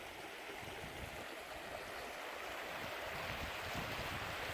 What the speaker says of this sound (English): Just going to get some water from that stream,